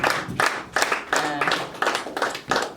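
A church congregation claps for its youth in rhythmic bursts of hand claps, each lasting about half a second with short gaps, loud and close, with a faint tone lingering beneath.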